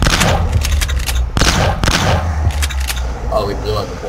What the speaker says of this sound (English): Oh, we blew up the bomb.